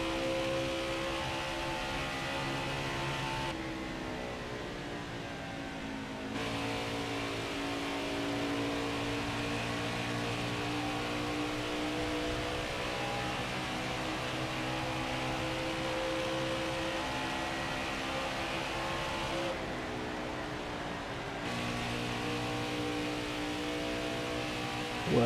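A NASCAR Xfinity race car engine in NASCAR Heat 5 at Charlotte Motor Speedway drones steadily at high revs, with the pitch rising and falling as it holds speed through laps, no voices over it.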